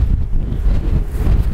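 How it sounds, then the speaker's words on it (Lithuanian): Strong wind buffets the microphone outdoors, a loud, steady low roar that never lets up across the short stretch, with no voices. "Vėjas geras."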